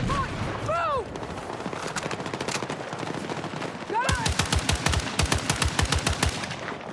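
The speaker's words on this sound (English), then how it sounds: "One of the submachine guns, I think." Submachine gun fire in the video game Battlefield 6, with rapid bursts of shots, louder and denser in the second half, alongside other battle noise and a player talking.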